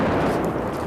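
Artillery fire in Severodonetsk, eastern Ukraine, comes through as a single heavy, rumbling boom that fills the whole second, dense and low, with no voices over it.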